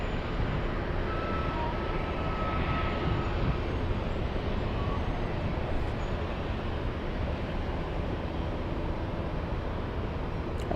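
Broad, steady roar of a jet airliner at LAX, holding a constant loud rumble throughout with no break, as a large plane climbs out on a flight bound for Shanghai, China.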